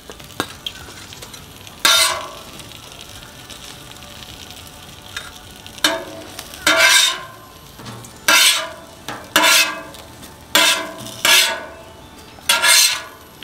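Bacon fries on a Camp Chef Gridiron griddle outdoors, a steady low sizzle broken by repeated loud scraping bursts of a metal spatula against the flat-top, roughly every second or two, close and clear.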